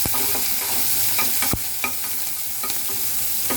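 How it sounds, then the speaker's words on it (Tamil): Onions sizzling as they fry in a pan for a potato fry, a steady close hiss with a few sharp scrapes of a stirring spoon against the pan. "ரெண்டு வெங்காயத்துமே போட்டுக்கலாம் இது நல்லா வதங்கணும் பொன்னிறமாக வதங்கணும்"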